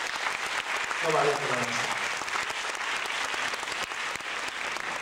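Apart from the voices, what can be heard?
audience applause for a trumpet teacher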